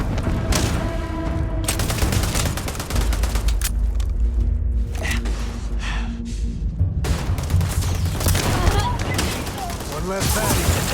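Rapid gunfire in a Starfield shootout, sustained loud bursts and booming shots running throughout with shouted voices mixed in.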